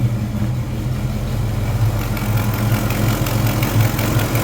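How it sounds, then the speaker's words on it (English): A car engine idles with an exhaust header leak, a steady low rumble with a faint ticking pulse running evenly through, heard close with no voices. "Got a little bit of a header leak."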